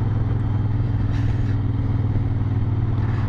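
A 1970s Moto Guzzi California Italian cruiser motorcycle rumbles steadily while riding, a loud, even engine drone with road noise and no speech.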